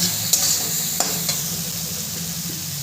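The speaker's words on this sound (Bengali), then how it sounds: "আলু আর মশলাটাকে আমি ভালো করে কষিয়ে নেব।" Potatoes and spices with chilli powder and a splash of water sautéing in a pan over a medium gas flame, a steady close sizzle with a few sharp stirring clinks and scrapes against the pan.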